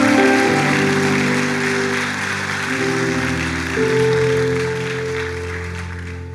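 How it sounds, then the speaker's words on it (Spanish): A church congregation applauds loudly in worship as a dense, sustained wash of clapping that rolls on for several seconds under held keyboard tones. "Démosle un fuerte aplauso al Dios que nos protege"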